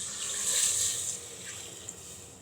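Water pours steadily into a pot of dal for ven pongal, a close, hissing splash that swells and then gradually eases over a couple of seconds.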